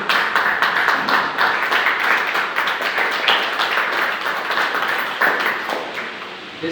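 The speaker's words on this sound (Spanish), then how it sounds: "Denle un aplauso al que vive." A church congregation claps steadily and loudly for several seconds during a sermon, a dense wash of hand claps that slowly fades out.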